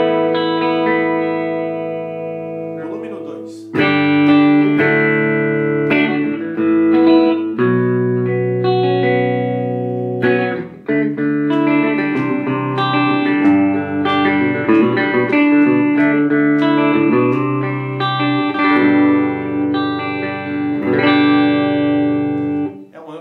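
Electric guitar played through a Fender Princeton 112 amplifier on its clean channel, treble and bass set mid, volume low and reverb light, strummed chords and picked notes ringing continuously and fairly loud, with no talking.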